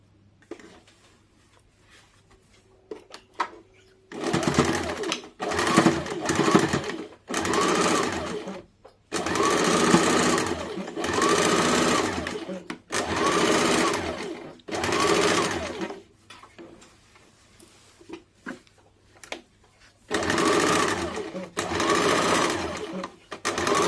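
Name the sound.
sewing machine stitching both sides of a blouse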